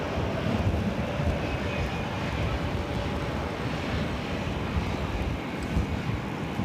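Jet airliners at Phoenix Sky Harbor airport produce a steady, loud engine roar that fills the scene without break, mixed with wind buffeting the microphone and no speech.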